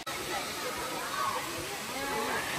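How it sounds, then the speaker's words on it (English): Waterfall at Koh Samui, Thailand, a steady broadband rush of falling water close by, continuous for the whole stretch with faint chatter of people in the background. "So this is the waterfall."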